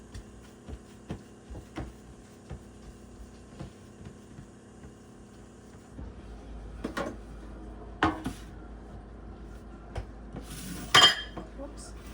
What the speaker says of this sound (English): I just banged my dishes a little bit.